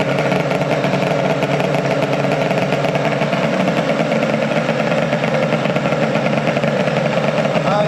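A Zuma 140cc twin cylinder scooter engine runs steadily at a fast, buzzing idle, loud and close, with a constant even throb throughout.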